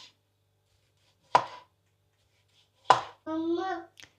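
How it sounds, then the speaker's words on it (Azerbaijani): Two sharp knife strikes through tomatoes on a board, well spaced and close, followed by a short tonal squeak and a faint tap, in an otherwise quiet kitchen while preparing buğlama. "Pomidorları doğrayıram."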